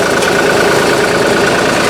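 A car engine idles steadily after a new line and hose clamps were fitted, giving a loud, even, close-up rumble with a faint regular pulse throughout.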